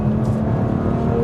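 A BMW M2 Competition engine holding a steady, loud drone with a 7-speed gearbox in manual mode, captured from inside the car without any clear break in the sound.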